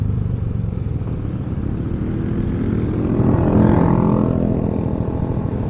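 Motorcycle engine running through a Villain aftermarket exhaust pipe, a steady heavy low rumble that swells louder partway through, as if revving or passing close.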